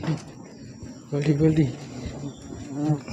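Bees hover and buzz around a nest in a spot where they settle every year, a faint steady hum under people talking nearby, with brief louder voices breaking in.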